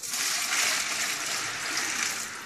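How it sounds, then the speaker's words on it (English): Water poured steadily into a rinse bucket during a coarse filter washing stage, a continuous close gushing splash lasting throughout with no talking. "I'm going to put it back in the rinse bucket and pour more water in there"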